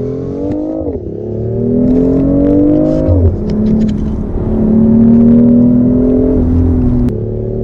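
Grey BMW i8 Roadster on a Formula E racetrack in Marrakech, its engine note rising and dipping steadily as it accelerates through shifts, loud and close from inside the car.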